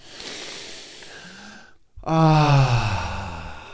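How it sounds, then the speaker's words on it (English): A person takes a long, deep breath in to clear the mind, a steady airy inhale followed by a brief hush, then a loud voiced sigh as the breath is released. "let's take a deep breath to clear our mind"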